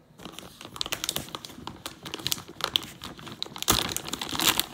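Wrapping paper with dotted perforations crumples and crinkles in dense, irregular bursts while a Polo Ralph Lauren Snow Beach cap is unboxed, close and fairly loud, no talking.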